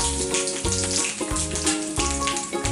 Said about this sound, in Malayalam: കടുക് പൊട്ടുന്നുണ്ട്, നമുക്ക് കായ്മുളക് ഇട്ട് കൊടുക്കാം.